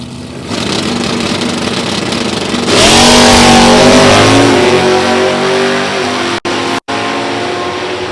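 Super Stock drag racing cars launch from lanes 3 and 4 at an NHRA Division 3 event at Gateway Motorsports Park. Steady engine noise gives way to a loud, rising roar as the engines rev hard and accelerate away.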